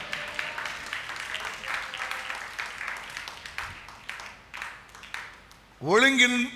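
Applause from a church worship congregation, a steady crackle of many hands clapping for several seconds before a voice breaks in with singing or speech at the end.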